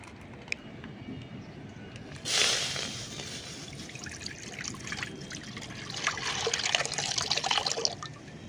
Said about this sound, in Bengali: কড়ার মধ্যে এখন আমি দুধটা ঢেলে দুধটা ভালো করে গরম করে নেব।